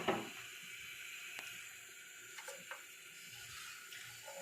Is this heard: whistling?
no